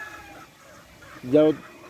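Roosters from gamefowl bloodlines give a short, fairly loud burst of clucking near the end, with quieter bird sounds and faint background noise before it.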